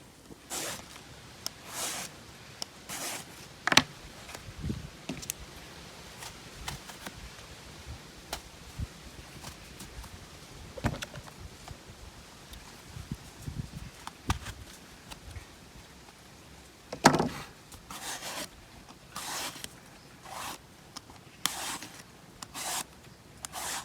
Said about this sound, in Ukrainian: Беремо наші баклажани і робимо грибний салат. Беремо і щищаємо кожицю.